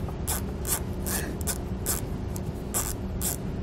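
A hand ratchet works on 8 millimeter bolts holding a car fender liner near the tire of a 2020 Chrysler Pacifica, giving repeated close clicking bursts in an irregular rhythm over a low background hum.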